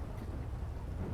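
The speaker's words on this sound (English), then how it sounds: "It's raining." Steady rain falls in the game GTA 5 as a soft, dense wash, faint and even throughout with no voices.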